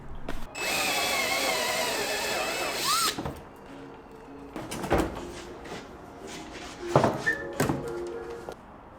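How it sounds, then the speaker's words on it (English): Power drill re-drilling a bumper mounting hole on an E36 car, one sustained whining burst of about three seconds, followed by clunks and bumps of the tool and parts, close and loud, with no voices. "I'm just gonna try and re-drill a little bit lower to the right"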